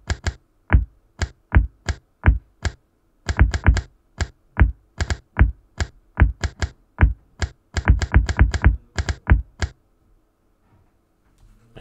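Sound effects from the Block Breaker video game: a long series of sharp, clicky blips as the ball hits the paddle, some spaced apart and some in quick bursts, loud and close with no talking, before silence at the end.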